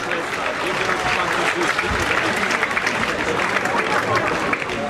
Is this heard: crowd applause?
yes